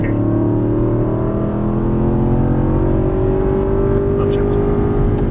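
A race car accelerating hard out of a turn at full throttle, heard from inside the cockpit as a loud, sustained engine drone with harmonics rising steadily in pitch.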